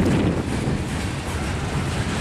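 Dense, steady rumble of a train rolling along railroad tracks, loud and close, with broadband noise continuing without pause for the whole stretch.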